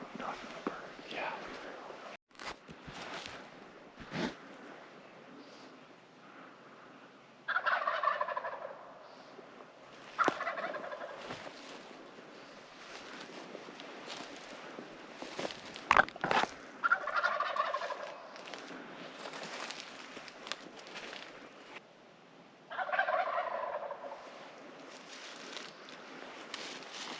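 Wild turkeys gobbling from their roost about 60 yards away, several distant rolling gobbles repeating every few seconds over faint background noise in the woods.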